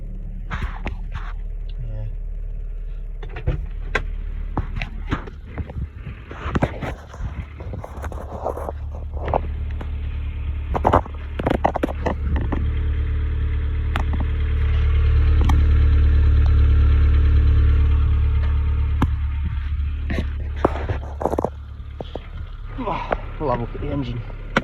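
A cheap 1990s car with a 1.3-litre engine cold-starting and then idling quietly, a steady low rumble that swells slightly midway, under frequent clattering handling sounds and talk nearby.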